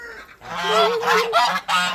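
Several geese honking loudly and close by, a run of harsh, nasal calls overlapping one another.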